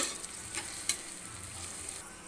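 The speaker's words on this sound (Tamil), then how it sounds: "சேர்த்து வச்ச பச்சை மிளகா, கட் பண்ண வெங்காயத்தை சேர்த்துக்கலாம். நல்லா ரோஸ்ட் ஆகணும்." Onions and green chillies sizzle steadily in hot oil in a pan for a vegetable biryani, with a few soft stirring clinks over the continuous frying hiss.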